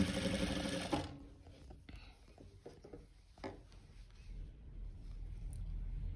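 A sewing machine runs through stitching on a fur hoodie, starting with a loud steady whir. The motor then drops to a softer, uneven running hum with faint background sounds.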